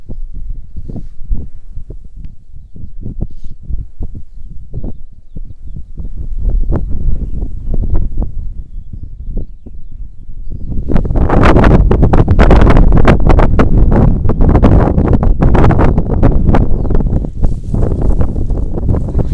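Gusty wind buffets the microphone in rough bursts across a winter barley field, growing much stronger and more constant in the second half.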